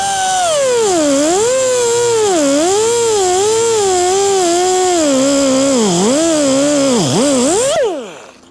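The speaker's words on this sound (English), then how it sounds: "let's cut this off and" A power tool cuts metal parts for a Suzuki RM250 mockup, a loud, close whine that wavers up and down in pitch under load before spinning down and stopping.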